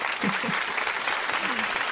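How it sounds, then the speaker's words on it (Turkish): A short burst of close hand clapping at home during an amigurumi crochet tutorial, with a voice speaking over the claps throughout. "Kendimizi alkışlıyoruz."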